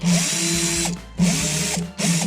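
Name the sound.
drill boring hole in plastic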